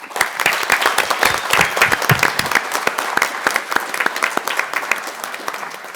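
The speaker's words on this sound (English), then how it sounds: "Let's clap for the people of Mount Pleasant." An audience at a town council meeting breaks into loud applause for the townspeople, with crisp individual claps standing out within the dense clapping, which carries on steadily and thins slightly toward the end.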